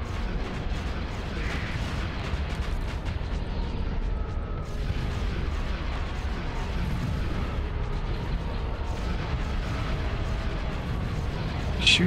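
Weapons fire in a space battle in the video game Starsector, a dense, continuous barrage of booming blasts and rapid bursts rumbling on without pause, loud and up close.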